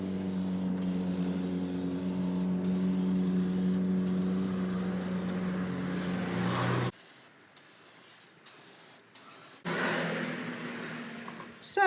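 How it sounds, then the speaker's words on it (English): A can of gloss spray paint hisses steadily and close for several seconds while coating a handmade miniature baby crib with adjustable cot sides. A few quieter short bursts follow after it. "this is the gloss spray that Paul's using"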